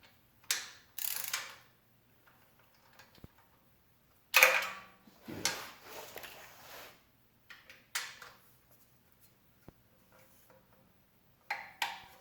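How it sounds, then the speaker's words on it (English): A torque wrench tightens oil pan bolts on an LSX engine, set to 104 inch-pounds, giving faint scattered ratcheting clicks in short bursts separated by quiet pauses. "So I'm gonna go ahead and start torquing these down."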